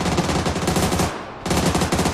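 Rapid automatic gunfire in a shooting video game, loud dense bursts with a short pause in the middle before the firing resumes.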